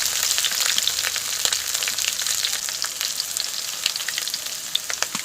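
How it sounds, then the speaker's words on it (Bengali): Vegetables for Bengali sukto sizzle as they fry with spices, producing a dense, continuous crackle and hiss, close and fairly loud, with scattered spatter pops and no voices. "এবার কিন্তু ভালো করে কিন্তু সবজিটা আমি কষিয়ে নেব"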